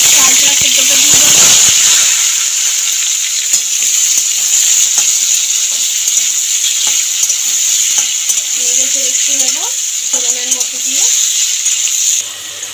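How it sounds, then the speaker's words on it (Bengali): Panch phoron spices fry in hot oil for a chaltar achar (elephant apple pickle), making a loud, continuous close hiss and sizzle. Brief stirring clatters and someone speaking come through underneath. "তেল গরম হয়ে গেছে, ফোড়নে দিয়ে দেবো 5 ফোড়ন। ফোড়নটা ভাজা হয়ে গেছে"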